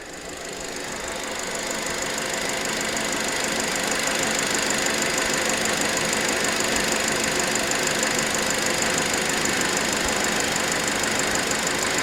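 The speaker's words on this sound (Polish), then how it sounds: "Ja w tej chwili sobie silnik odpalę" A 2012 Renault Grand Scenic 1.4 TCe 130 hp engine with an overheating fault idles steadily, its dense, even running noise rising slightly at first and then holding loud and constant up close.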